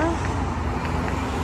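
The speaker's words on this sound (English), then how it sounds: "A lot of traffic today." Steady city street traffic in Frankfurt's financial district, a continuous broadband roar of passing cars and other vehicles heard from the sidewalk, with a faint voice or two mixed into the background.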